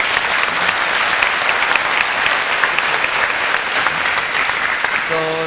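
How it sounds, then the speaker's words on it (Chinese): An audience at a company gathering applauds a team member's achievement, producing several seconds of dense, even clapping before a voice comes in at the very end. "掌声鼓励一下"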